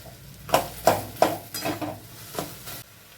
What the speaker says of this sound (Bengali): 5-6 মিনিট একটু আমলকিটা জাল করে নিয়ে এবারে আমি গুড়টা দিয়ে দিচ্ছি।